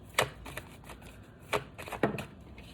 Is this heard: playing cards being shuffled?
yes